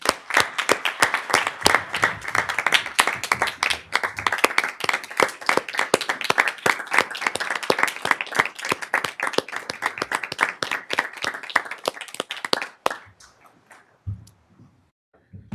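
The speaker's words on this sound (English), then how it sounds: "I just want us all to give you a round of applause" Applause at a Board of Education meeting, a dense run of sharp individual claps from a modest room of people, steady for about thirteen seconds before stopping abruptly, with brief faint sounds afterward.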